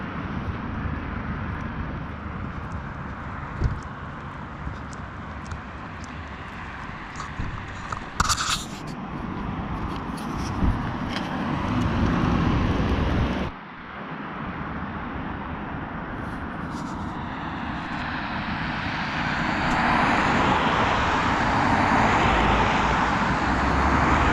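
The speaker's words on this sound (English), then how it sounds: "So where I'm standing right now, you do get cars going by" Cars pass along a main road, producing a continuous broad roar of traffic heard from the roadside, with swells as vehicles go by and a brief dip partway through, with no talk.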